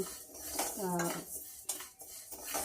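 Rice being stirred in a metal pan with a spoon after the stove is switched off, giving scraping strokes and a ringing metallic clink, close and fairly quiet.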